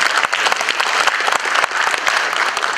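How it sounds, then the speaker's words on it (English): An audience at a panel discussion session gives a round of applause, lively uneven clapping with distinct sharp claps standing out from the dense, steady crowd sound. "Round of applause for sure."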